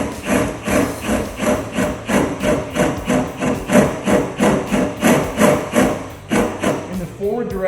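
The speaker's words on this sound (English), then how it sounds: "while you're drilling with this big 17/32 bit" A large 17/32 bit bores through metal while installing aluminum rear corner armor on a Jeep JK. It is driven in short, regular pulses, about two per second, and grinds close and loud before a brief scraping finish.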